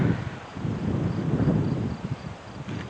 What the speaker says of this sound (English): Golly, is it windy over here?